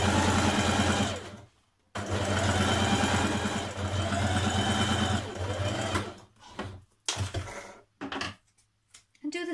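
Sewing machine stay stitching blouse pieces for a Simplicity 1316 top, running in steady loud whirring bursts with brief pauses and stop-start stitching toward the end.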